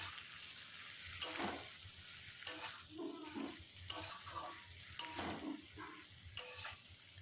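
Coriander powder and Kashmiri chilli powder being stir-fried in a pan for egg curry. A quiet sizzle runs beneath repeated scraping strokes of a spatula, coming roughly every second or so, with no talking.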